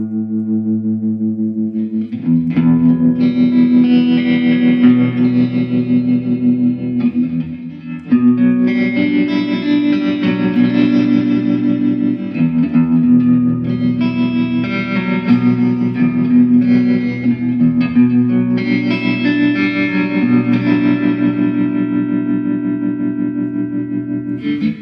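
Electric guitar played through a Fender Mustang LT25 modeling amp with distortion and chorus-type effects, sustained chords and ringing notes held loud and steady with a brief dip partway through.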